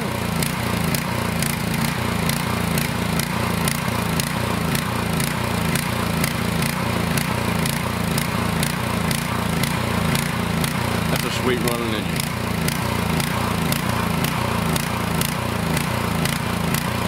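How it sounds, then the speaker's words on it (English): An air compressor and a leaf blower run together, producing a loud, continuous engine drone with a fast pulsing throb that stays steady throughout. "Now I'll take the air compressor and my leaf blower and clean it up."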